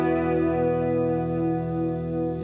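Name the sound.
electric guitar with delay and reverb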